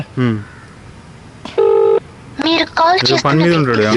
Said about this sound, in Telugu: ఫోన్ ఎత్తట్లేడు